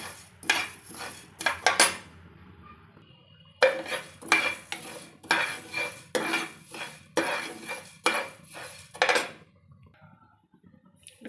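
A spoon scrapes and clatters against a hot pan as coriander seeds dry-roast, stirred in uneven bursts of rattling metallic scraping, close up with short pauses between.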